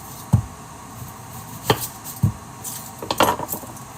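Knife chopping an onion for chorizo pasta, a handful of sharp, separate knocks on a board spaced irregularly, close and fairly loud with no talking.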